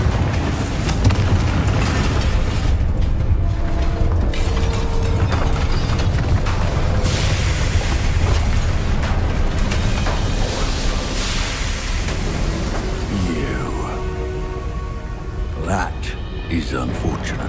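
Confringo explosive spell blasts in Hogwarts Legacy, loud booming bursts layered over continuous game noise and speech, dense and sustained across the scene.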